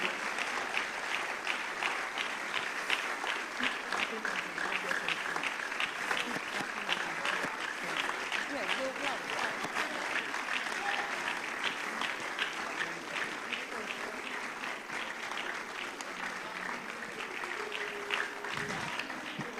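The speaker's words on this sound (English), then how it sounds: "So we are going to clap very, very well for these coaches" Sustained audience applause for the coaches at the National Investment Quiz Competition 2025 finals, a dense steady wash of many hands clapping that holds evenly at moderate loudness for the whole stretch, with no voices standing out.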